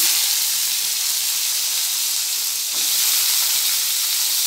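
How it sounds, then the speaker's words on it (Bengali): Vegetable stalks hiss and sizzle in hot oil seasoned with nigella seeds, a steady, loud, close frying noise with a slight swell near the end and no talking. "কড়াইতে তেল দিয়ে কালো জিরে ফোড়ন দিয়ে দিয়েছি। আর ডাঁটাগুলো ছেড়ে দেবো।"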